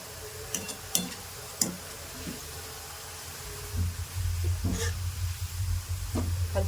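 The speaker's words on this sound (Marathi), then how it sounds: "अशा पद्धतीने आपला कांदा तळत आहे आणि याला कंटिन्यू हलवायचं आहे" Onions fry in a pan and are turned with a spoon, giving a few sharp spoon taps and scrapes over a soft sizzle that thickens into a steadier, louder frying hiss in the second half, heard up close.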